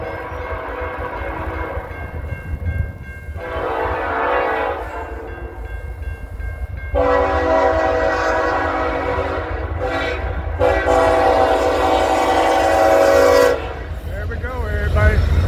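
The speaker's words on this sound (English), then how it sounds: "Looks like we got Norfolk Southern 278 coming eastbound." Norfolk Southern freight 278 rolls eastbound through Suffolk with two BNSF locomotives trailing, sounding three long, loud horn blasts over a heavy rumble of passing cars.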